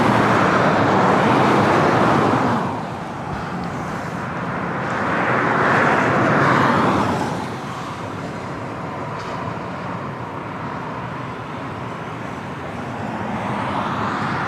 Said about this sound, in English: Next arrival is Alaska Airlines Flight 427 coming in from SFO on the